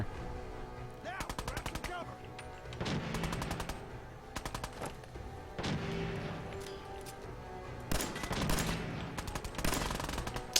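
Rapid bursts of automatic gunfire in Fallout 4, several separate volleys of fast repeated shots with short pauses between them, moderately loud, with occasional talk.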